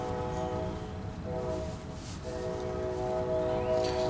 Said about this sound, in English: We have a train not far from my mother's house here. And this goes on all day long. And these guys sit on these horns coming through town.